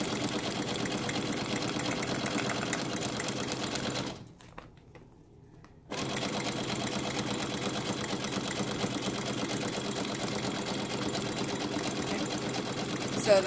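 A sewing machine stitches steadily across the end of a Teflon pillow with a fast, even mechanical whir. It stops briefly for a couple of seconds, then runs on continuously.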